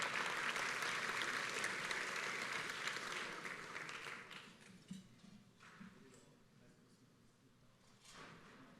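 Audience applause for an award-accepting project team at a county quality and productivity awards ceremony, moderately distant clapping that swells then tapers off into scattered claps and room noise.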